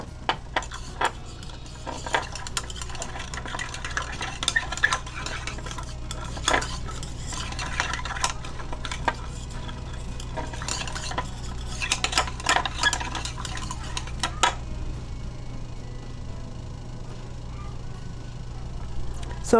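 Homemade natural hair dye being mixed in a bowl: a utensil scrapes and clinks repeatedly against the bowl in an irregular rhythm, close and steady, over a constant low hum, with faint talk in places.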